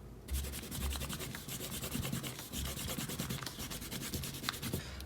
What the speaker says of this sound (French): Ok, on peut gommer notre trait de construction.